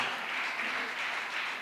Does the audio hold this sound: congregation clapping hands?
yes